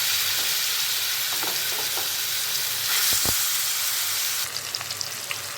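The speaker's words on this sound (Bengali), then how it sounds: "চটকে নেওয়া জলপাইগুলো আমার দেওয়া হয়ে গিয়েছে তেলে। এখন আমি জলপাইগুলোকে একটু ভেজে নেব।" Mashed olives frying in hot oil with dried red chillies, bay leaf and panch phoron for olive pickle, giving a steady, loud, close sizzle throughout with a few brief clatters near the middle and a brighter crackle toward the end.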